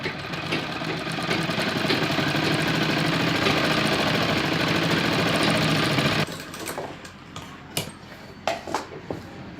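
Sewing machine stitches the round sleeve part of a blouse, a steady close mechanical whir for about six seconds, then stops, followed by scattered soft clicks and fabric handling.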